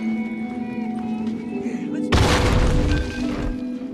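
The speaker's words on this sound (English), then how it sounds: "you can use those same type of nails to make a bomb" A nail bomb in The Last of Us game goes off with a sudden loud boom and crashing burst partway through, following a stretch of quieter game ambience with a low steady hum.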